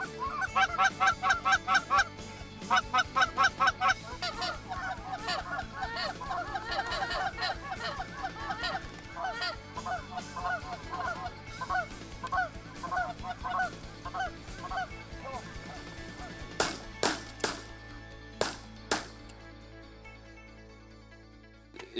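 A large flock of migrating Canada geese honks steadily in a noisy overlapping chorus, with a few sharp bangs near the end cutting through the calls.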